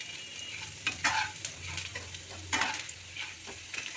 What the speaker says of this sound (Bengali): রসুন আর আদাটা ভাজা ভাজা হয়ে গেছে।